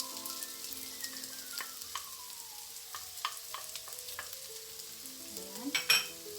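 Pan-fried potatoes sizzle softly in a pan while a utensil stirs and scrapes through them, with light clicks and scrapes scattered over the quiet frying and a brief louder clatter near the end.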